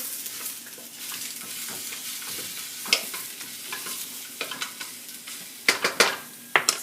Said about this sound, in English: or my yams and put those into a pan. There's a light, very light coating of EVOO on the potatoes.